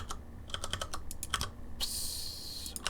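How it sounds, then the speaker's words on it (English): Rapid mouse clicks while building a gun in From the Depths, a quick irregular run of sharp ticks followed by a brighter hissy burst near the end, moderately close and with no voices. "there's a lot of clicking in between the menus at this point"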